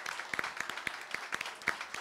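Audience applause for Paul Sutton at a Kids Voice Tour finale in Bienne: soft, dense patter of many hands clapping at a steady, fairly quiet level, with scattered sharper claps standing out.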